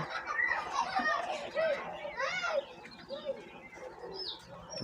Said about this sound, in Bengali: ছাব্বিশটা কয়েল পাখি আছে